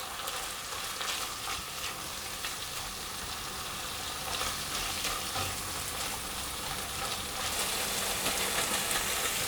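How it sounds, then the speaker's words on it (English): Onions fry over reduced heat in a pan for minced beef pancakes in tomato sauce. They give a steady, moderately quiet hiss and crackle that continues without a break. "I'm going to reduce the heat a little bit, and I'm going to cook the onions for 5 minutes."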